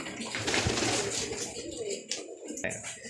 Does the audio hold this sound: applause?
no